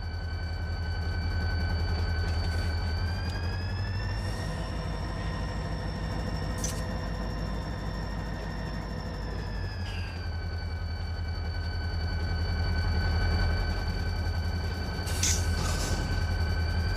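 SD45 diesel locomotives in the Run 8 train simulator pull freight cars forward with a steady engine drone and rail rumble, plus occasional squeals and clanks, loud and continuous with no talk.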